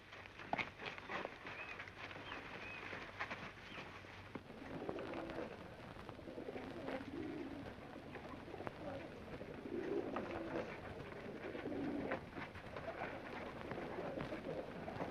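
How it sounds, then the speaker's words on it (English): Pigeons cooing in low, soft repeated phrases through a steady, slightly hissy ambient backdrop, fairly faint and continuous across the scene. "Yes, there are pigeons here."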